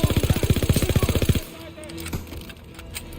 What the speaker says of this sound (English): Oh, you got an MG42?